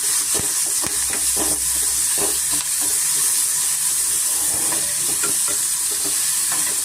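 Onion and curry leaves crackle and sizzle in hot oil for brinjal fry, a constant bright hiss under irregular stirring scrapes, close and steady throughout.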